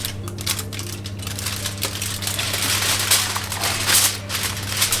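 Aluminium foil folded over a pork joint wrapped in apple, crackling and rustling up close at a steady level over a low background hum, with no one talking.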